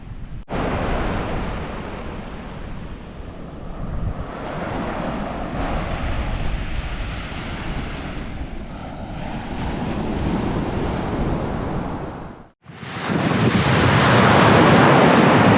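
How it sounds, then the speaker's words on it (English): Steady rushing surf of ocean waves breaking on a beach, loud and continuous with heavy wind buffeting the microphone, a brief dropout near the end before the roar returns. "Finally made it to the beach."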